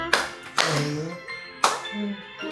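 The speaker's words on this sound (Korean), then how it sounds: "박수!" Several sharp claps at a family birthday celebration for a mother, arriving in spaced bursts roughly half a second to a second apart, close by, with voices chattering between them.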